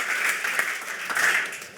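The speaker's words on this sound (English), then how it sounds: "So please give this panel a warm applause." An audience at a water-resources panel session applauds, a brief steady wash of clapping at moderate distance with no voices over it.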